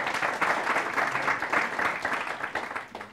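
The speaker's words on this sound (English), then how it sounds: "Can I get some applause?" Audience at a tech talk on Angular data binding breaks into brief applause, a dense wash of clapping with some cheering voices mixed in, fading toward the end.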